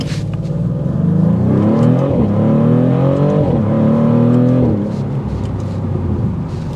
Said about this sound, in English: The cracks come in, the pops from the exhaust note.